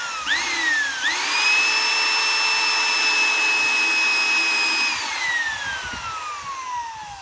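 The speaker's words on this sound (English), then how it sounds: "So I'll drill through from the plastic as well" A power drill spins up in two quick steps, then holds a steady high whine as it bores through the plastic of an office chair, winding down at the end with light handling noises, close and loud.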